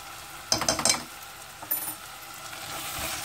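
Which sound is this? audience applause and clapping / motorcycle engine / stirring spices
stirring spices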